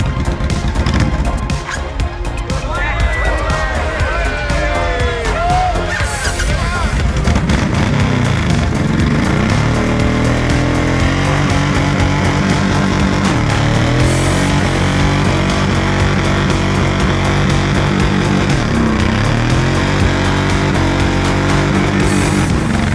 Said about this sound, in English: The guys are burning their bikes rubber